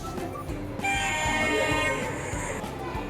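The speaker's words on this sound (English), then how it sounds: "Please attention, our train is arriving." A train rolls into a station with rhythmic clacking wheels and a sustained high horn tone, fairly loud and close, with a faint voice underneath.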